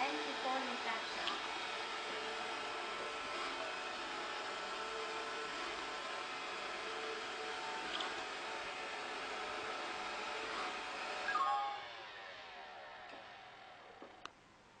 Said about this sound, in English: Now is the automatic work mode.